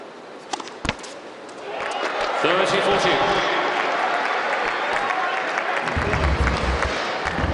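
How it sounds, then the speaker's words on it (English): At a tennis exhibition match featuring Roger Federer, a crowd bursts into applause and cheering after a few sharp hits, a broad wash of clapping that swells and holds with a voice underneath. "each and every point that Federer and the Aces win today will be greeted by a loud cheer"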